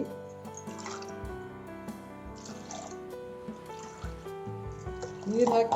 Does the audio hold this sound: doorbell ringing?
no